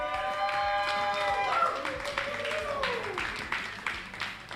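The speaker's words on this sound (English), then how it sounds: "Let's give a little round of applause there to Cherubs of the Caribbean coming 4th place there." Audience applause for the fourth-place team at an axe-throwing doubles tournament, a scattered patter of clapping swelling after a few seconds, with people talking over it.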